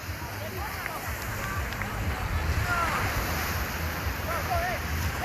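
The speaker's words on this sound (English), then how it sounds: "Try to give you a shot of the ocean here." Ocean surf rolls onto the shore in a steady wash of waves, with gusty wind buffeting the microphone and faint high chirps scattered through.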